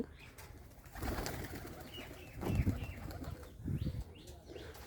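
A pair of Rajshahi Giribaz pigeons coo softly in short, rolling bursts, with a brief flutter of wings. The sound is close but faint, and there is some low background noise.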